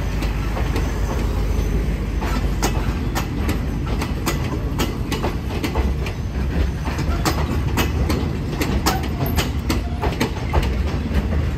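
A southern Thai special express night train, number 38, passes with Daewoo sleeper cars and extra carriages, including the last two cars of train 46. The wheels keep up a steady rhythmic clickety-clack throughout, close and continuous.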